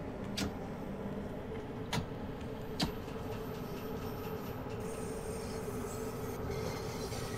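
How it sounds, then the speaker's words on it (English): A London Underground Bakerloo Line train in a train simulator game rolls into a platform with a steady low rumble, sharp clicks of wheels over joints and a faint squeal of brakes, moderately quiet. "I'm going to brake as we come into the platform."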